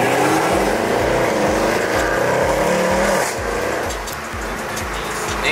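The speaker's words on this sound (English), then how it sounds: "He's about to gas it. The Nismo GTR," A Nissan GT-R Nismo accelerating hard, a loud, close engine roar with rising revs and a rhythmic pulsing note that eases slightly toward the end.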